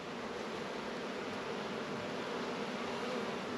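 Faint, steady buzzing hum of many honey bees crowded on a hive frame, a continuous low drone without breaks.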